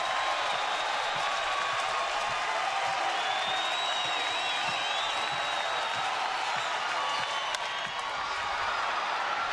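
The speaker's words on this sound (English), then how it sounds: "Crowd trying to urge a run." Baseball stadium crowd in the ninth inning, a steady roaring wash of cheering and scattered applause from a large audience, sustained and even throughout with no talk over it.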